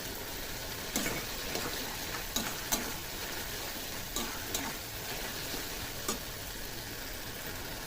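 A ginger-cumin paste and chopped tomato fry in a pan of hot oil with a steady close sizzle, broken by occasional light taps and scrapes of a stirring spoon.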